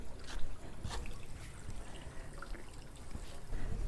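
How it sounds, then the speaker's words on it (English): A small creek trickles beneath a trail bridge near a pond, a soft, continuous babble of water with light splashy ticks, faint and close, with no voices. "Goes over just a little tiny creek."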